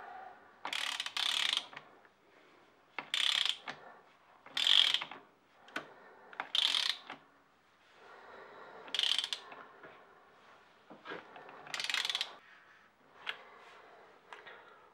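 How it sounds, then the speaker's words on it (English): A big ratchet with a 30mm socket tightens a nut on a Suzuki Bandit motorcycle, producing repeated bursts of close, crisp clicking as the handle swings back and forth, with brief pauses between strokes. "need my big ratchet 30mm socket"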